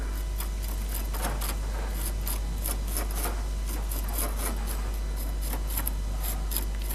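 The mortar joint of a brick vault built with fast-setting cement is scraped by hand in repeated short, rasping strokes, close and steady, with no talk.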